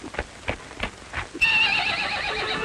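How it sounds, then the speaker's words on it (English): A horse on the western plains gives a loud, sustained whinny after a run of rhythmic hoof clops, the neigh rising sharply and holding to the end. "He's a mighty good-looking horse."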